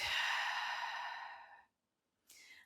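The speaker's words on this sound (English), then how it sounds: "And a full breath out." A long, full exhale during a yoga flow, heard close and breathy as it fades out over about a second and a half, followed by a brief pause and a shorter breath.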